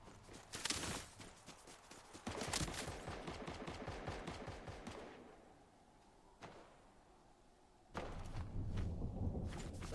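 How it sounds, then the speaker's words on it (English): Video-game gunfire in Arc Raiders or Fortnite: rapid bursts of automatic shots, fairly distant, in two long volleys with a quiet lull and a single sharp crack between them. "It's like they're shooting over there too."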